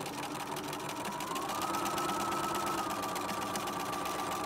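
A sewing machine stitches fabric with a zip, giving a steady, continuous close-up whirring drone throughout with no pauses.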